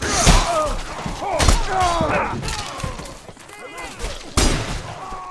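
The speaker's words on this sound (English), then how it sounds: "I parried the bullet again!" A bullet is parried with a melee weapon in Mordhau, making sharp impact cracks and thuds amid gunfire. The hits are spread across several seconds and a final loud strike comes near the end, all mixed with talking.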